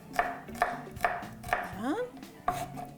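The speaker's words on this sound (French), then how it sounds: "j'ai 3 gousses d'ail que je suis en train de hacher" A knife chops garlic cloves on a board in sharp, evenly spaced strokes, about five crisp taps in a few seconds, close and faint, with a brief clink of kitchenware between them.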